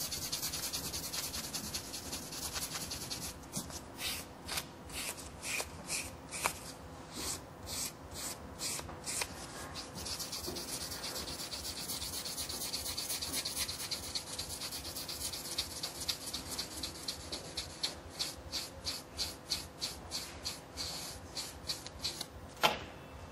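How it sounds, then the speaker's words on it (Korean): Light sanding of nail tips before the top coat, done as a salon technique on powder French tips: a steady run of soft, close rasping strokes with brisk, rhythmic scraping bursts and no talk. "그냥 샌딩 가볍게 해주시고 탑코트로 마무리하도록 하겠습니다"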